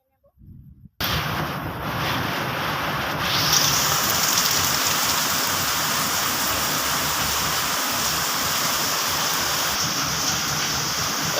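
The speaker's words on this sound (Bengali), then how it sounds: "তরকারিটা আমার ফুটে উঠেছে, সব কিছু ভালোভাবে সিদ্ধ হয়ে গেছে।" Pointed gourd and soybean curry bubbling at a steady boil in a pot, a continuous dense hiss and simmer after a brief quiet start, with no talk.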